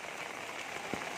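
Steady rain falls around a temple complex during the monsoon season, a dense even hiss of drops on surfaces with one brief louder splash near the end, no voices.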